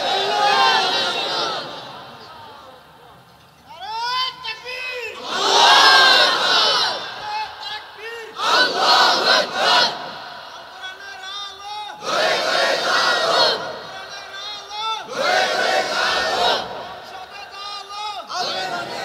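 At a religious sermon gathering, a leader's shouted call alternates with a large crowd roaring back the takbir, Allahu Akbar. Several loud, massed chant bursts separated by short pauses.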